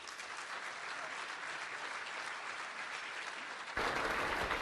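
Audience applauding at a Hall of Fame induction ceremony, a broad, even wash of crowd clapping that carries on throughout and jumps louder near the end.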